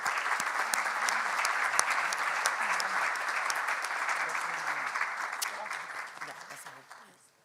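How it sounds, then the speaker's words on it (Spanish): An audience at a financial panel event on a university campus gives loud, sustained applause for a speaker coming to the stage, the crisp clapping holding steady for several seconds before tapering off. "Un aplauso fuerte"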